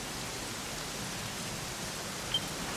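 Steady rainfall in the video game Dragon Quest XI, a faint, even hiss of rain with no talk throughout.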